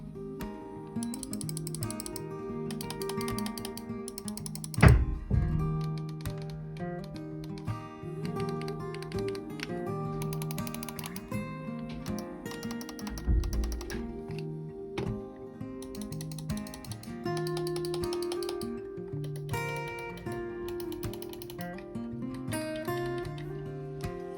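Rapid clicking and ratcheting mechanical taps from Razer Basilisk X Hyperspeed wireless mouse buttons, repeated throughout, close and fairly quiet, with a couple of sharper knocks, no speech.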